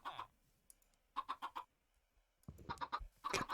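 A baby chicken in the video game Minecraft clucks in short bursts of soft, chirpy notes, a quick run of four in the middle and more clustered toward the end, close and clear with no one talking.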